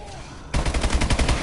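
Automatic turrets in Call of Duty Advanced Warfare Exo Zombies open up in a rapid, sustained burst of loud gunfire, close and continuous after a quiet start.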